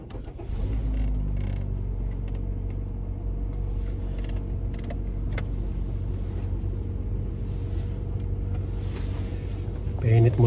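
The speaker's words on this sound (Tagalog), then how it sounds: "Painit muna tayo ng sasakyan guys." A car engine warms up in cold weather, a steady low idling rumble with faint mechanical rattles and creaks, close and continuous throughout.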